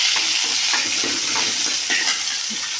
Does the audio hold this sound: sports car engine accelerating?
no